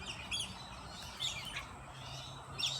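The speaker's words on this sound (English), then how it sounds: "Lorikeets chasing parakeets." Lorikeets and parakeets call in short, high chirps and squawks, a few bursts spread across a few seconds over steady low background rumble, fairly faint and at some distance.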